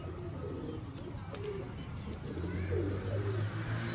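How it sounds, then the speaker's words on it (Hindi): Red-eyed golden pigeon cooing in a fancy pigeon setup, soft low repeated coos rising and falling close by, with other birds chirping faintly in the background. "लाल आँख दे रेड आइज पिजन यानी गोल्डन कबूतर"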